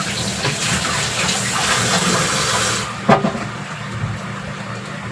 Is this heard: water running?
yes